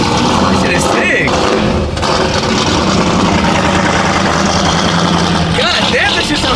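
A Corvette, a high-horsepower build, rumbles in a steady low idle close by, its deep engine drone continuous throughout with a brief dip partway, while people talk over it.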